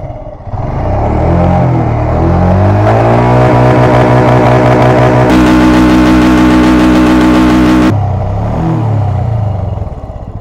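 A motorcycle engine runs loudly and steadily close by, revving up and settling, with a rattling clatter riding on top of the engine note.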